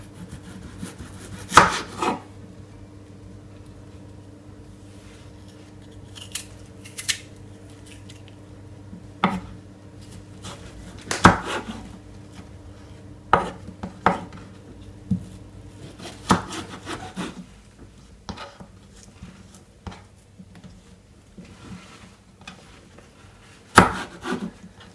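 A dull kitchen knife saws through fish on a board, giving scattered scraping strokes and sharp knocks against the surface amid quiet room noise, with no talking.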